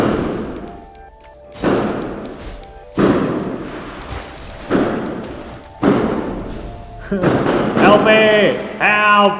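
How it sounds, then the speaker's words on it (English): Several heavy, booming gunshots from a neighbor's gun outside, spaced about a second apart in a loose series, with a person shouting for help in a panicked voice over and between the blasts. "That's the sound of a gunshot."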